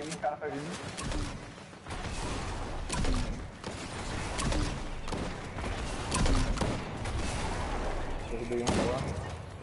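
Fortnite gunfire crackles in repeated bursts and sharp single shots, irregular and fairly close, while players talk over the action.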